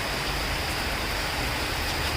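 Heavy monsoon downpour over the city of Akola, a dense, steady broadband hiss of rain with no breaks, loud and continuous throughout, with no voices.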